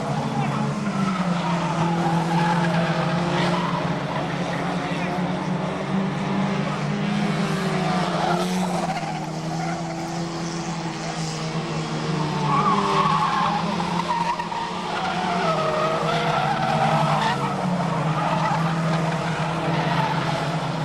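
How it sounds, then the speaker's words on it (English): Race cars roar and skid around the Fleet Raceway oval, engines droning continuously with tyre squeal rising and falling over about twenty seconds, loud and close. "Mitch Roberts in the number 3 car"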